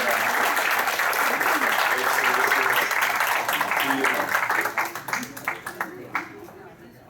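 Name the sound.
round of applause at farewell meeting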